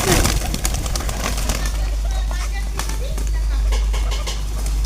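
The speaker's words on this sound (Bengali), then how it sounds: "দেখতে পাচ্ছেন কবুতরে কি সুন্দর ধান খাচ্ছে।" Pigeons feed on rice grains on a rooftop: soft pecking taps and scattered clicks over a constant low rumble, with occasional cooing and wingy movement, and a voice talking over the scene.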